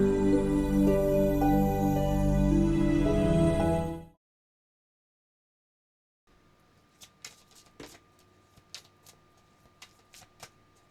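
Tarot cards shuffled by hand give a series of quick, crisp riffling snaps and soft slaps, close and fairly quiet, after a stretch of music and a short silence.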